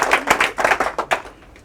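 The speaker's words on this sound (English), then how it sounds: "everybody give up a round of applause" An audience claps at a talk marking the 80th anniversary of World War II, a short burst of close, uneven hand claps that tapers off within two seconds.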